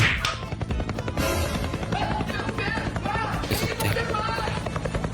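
A helicopter's steady, loud chopping drone fills a home setting in the Philippines, with children and adults talking over it throughout.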